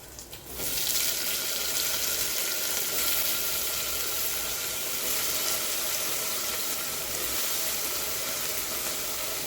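Brinjal frying in a pan for a potato-brinjal fry, starting with a sudden loud sizzle that settles into a steady, hissing crackle throughout.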